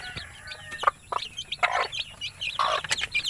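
Native chickens cluck and call on a farm with chicks about, a close mix of short clucks and a few brighter squawks over a faint background hum, with no talking.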